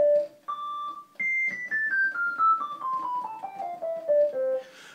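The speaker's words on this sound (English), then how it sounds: "we have this very sort of sine wave-ish tone because both of the filters are essentially closed in" Kurzweil PC3 FM synth program with sliders zeroed and filters closed, giving a pure sine-like tone: a melodic line of sustained notes that steps up, then descends gradually over several seconds, clear and alone.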